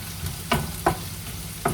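Chopped carrots are sautéed and stirred in a hot pan with leftover rice and burnt garlic, giving a steady close sizzle broken by three sharp scraping strokes of the spoon.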